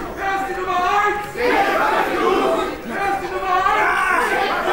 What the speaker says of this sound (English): As the crowd chants on